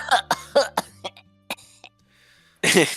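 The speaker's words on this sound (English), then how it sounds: "No, I coughed a little bit out of my spit." A person coughs a few times in quick succession, near and loud, with light throat sounds and a brief voice mixed in, ending in a harsher burst of coughing.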